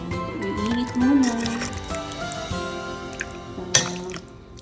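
Sauce poured into a pot of abalone with pork knuckles and chicken feet, a liquid glugging and splashing up close with a few clinks against the pot.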